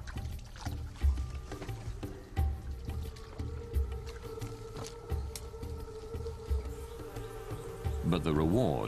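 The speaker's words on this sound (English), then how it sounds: "Hives, dripping with bees and honey." Wild bees swarm around hives dripping with honey in a forest in tiger territory. A soft, continuous buzzing drones on at low volume with faint flutters as insects pass nearby.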